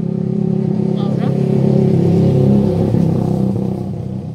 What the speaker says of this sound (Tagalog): Grabe yung mga motor kay ingay.